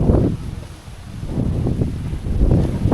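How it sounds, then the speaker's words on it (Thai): Strong wind buffets the microphone outdoors in a highland area, a loud, low, gusting rumble that rises and falls in waves across the whole clip. "โอ้ลมคักอะเลย"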